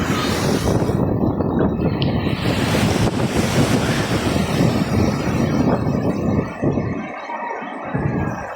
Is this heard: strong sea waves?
yes